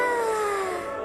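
A cartoon cat gives a single drawn-out meow that slides downward in pitch, lasting about a second, clear and upfront, from a Sinhala children's animated show.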